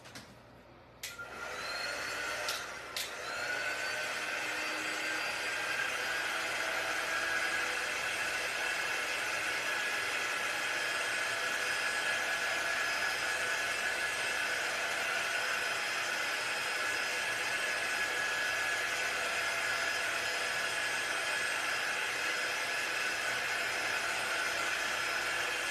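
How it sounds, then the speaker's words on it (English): An embossing heat tool clicks on and blows a steady, loud whoosh of hot air that runs without pause, with no one speaking. "I'm going to use my Magnolia Design Company heating tool."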